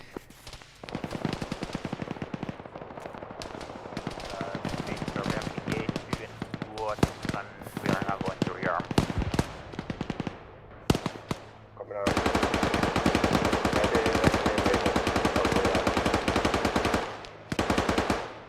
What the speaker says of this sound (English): You hear their gunshots.